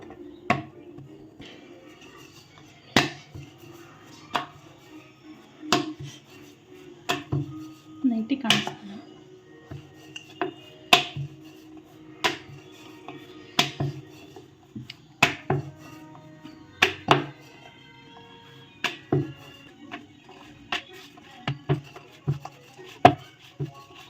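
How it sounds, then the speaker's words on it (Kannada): Palak (spinach) chapati dough folded into four and rolled out with a rolling pin in a home kitchen: a steady series of sharp knocks and taps, roughly one every second, with soft rolling rumble between them and no talk. "ಈ ಥರ ನಾಲ್ಕು ಫೋಲ್ಡ್ ಮಾಡಿ ಈಗ ಲಟ್ಟಿಸ್ಕೊತೀನಿ"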